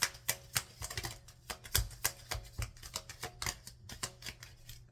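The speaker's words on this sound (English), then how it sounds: "let's pull some affirmation cards to close out your reading" Affirmation cards being shuffled in quick, crisp bursts of riffling and slapping, close up with an irregular rhythm throughout, no voices.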